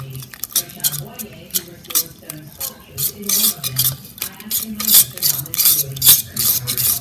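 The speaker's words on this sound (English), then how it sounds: "So we're adding our 1 egg, and we're going to mix that." An egg being mixed into herb bread dough in a bowl, heard as close, uneven scraping and stirring strokes with occasional utensil taps against the bowl, loud and without talk.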